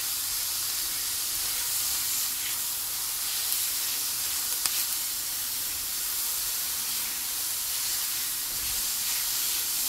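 Peppers sautéing in a pan for a spicy turkey taco hotdish give off a steady hiss and sizzle with no talking, holding at an even level throughout.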